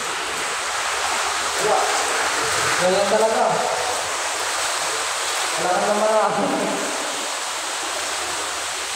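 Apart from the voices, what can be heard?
heavy typhoon rain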